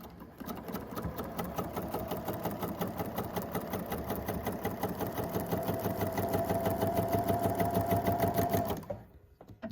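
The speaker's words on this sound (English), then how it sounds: "over to the sewing machine" A sewing machine stitching fabric for a quilt block runs steadily with a rapid, even mechanical rattle for several seconds, then stops abruptly near the end.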